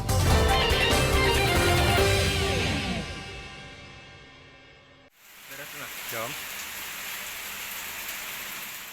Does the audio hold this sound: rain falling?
yes